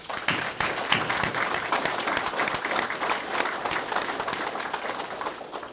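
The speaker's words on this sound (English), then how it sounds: "let's give him a round of applause" Audience applause at a sheriff's press conference for the Highway Patrol, with steady, crisp clapping from a modest crowd sustained at even loudness for several seconds without speech.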